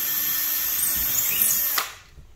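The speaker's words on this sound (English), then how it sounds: "I am attaching it to the drywall using cable tie and screw." A power drill drives a screw into drywall with a loud, steady high whine for nearly two seconds, then stops abruptly and leaves only faint room noise.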